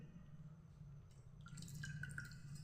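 Water drips from soaked semolina being squeezed by hand in a kitchen, faint trickling and small drops pattering into a vessel, close and quiet with no voices.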